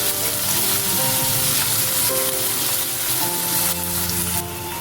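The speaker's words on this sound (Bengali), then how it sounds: "পেঁয়াজটা লাল করে ভেজে নিচ্ছি" Onions fry in oil with a little sugar in a pan for a chicken and potato kosha, giving a loud, steady sizzle that crackles throughout, with faint stirring.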